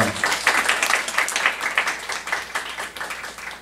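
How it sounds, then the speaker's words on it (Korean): A church congregation at a Saturday worship service claps together in steady, fairly fast rhythmic applause, moderately loud in a reverberant hall, continuing throughout without speech. "믿어지시는 분만 박수를 한 경우 드리겠습니다."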